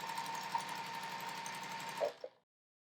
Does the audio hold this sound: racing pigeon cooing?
no